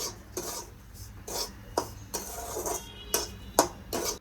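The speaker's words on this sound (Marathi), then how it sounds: "आता आपण हे छान भाजून घेऊया दोन्ही एकजीव करून" Semolina and dried coconut are dry-roasted together in a pan for rava coconut modak, heard as rhythmic scraping and rubbing strokes of a spatula against the metal, repeating about every half second, fairly quiet and close, with no talking.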